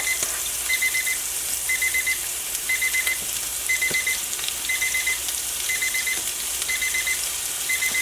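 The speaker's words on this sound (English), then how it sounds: "The 2-minute alarm goes off." A two-minute kitchen timer sounds while pork tenderloin fries, giving short bright beep bursts about once a second over a steady sizzle.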